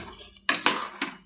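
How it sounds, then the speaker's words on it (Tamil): A spoon scrapes through mutton biryani in a pot after salt goes in, giving three quick metallic stirring knocks close up in an otherwise quiet kitchen. "கிண்டி விட்டுக்குருவோம்."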